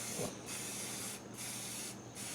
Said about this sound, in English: So he's just laying down the semi-gloss black color, and then we'll touch it, spray over with clear.